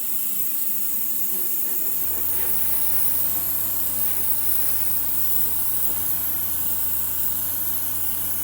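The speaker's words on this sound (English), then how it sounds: "And it's an amazing airbrush." A Gallery Mobius 0.2 airbrush sprays with a steady, close airy hiss that runs without a break, plus a low hum that sets in after about two seconds.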